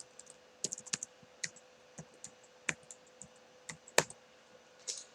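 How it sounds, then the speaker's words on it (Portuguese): Typing a name on a computer keyboard, a quiet irregular run of crisp key clicks with small pauses and a sharper tap near the end, over a faint steady hum. "vou escrever aqui o meu nome"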